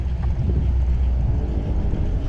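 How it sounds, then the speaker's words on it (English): Loud, deep engine rumble, steady and close, dominated by heavy low-end roar. "Sounds like a drag car."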